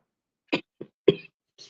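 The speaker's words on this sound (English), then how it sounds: "Coughing up a lung there" Harsh coughs from one person in a coughing fit, three or four short bursts spaced apart, close to the microphone, with silence between them.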